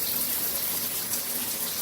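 Water pours steadily from a repaired shower head fitted with new Teflon tape and a new washer, a loud, close, continuous rushing spray.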